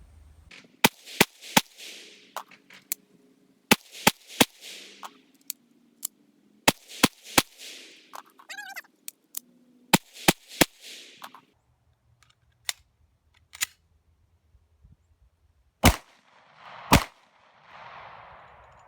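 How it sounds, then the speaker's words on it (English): A Smith & Wesson pistol fires a string of sharp, loud shots in uneven clusters with brief gaps, each crack ringing out over quiet outdoor air, with a few softer clicks and handling noises between. "we're gonna pop off a few rounds and we'll see what happens"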